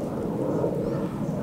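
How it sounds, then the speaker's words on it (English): Broad, steady roar of an airplane passing overhead above an outdoor trail near the Strait of Juan de Fuca, continuous and fairly loud with no other sounds standing out. "loud plane up there somewhere"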